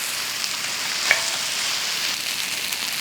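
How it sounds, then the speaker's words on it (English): Kimchi stir-frying in a pan over medium to medium-low heat, a steady close hiss of sizzling with a single brief clink partway through. "You'll need to stir fry the kimchi for at least 3 minutes in a medium or medium-low heat."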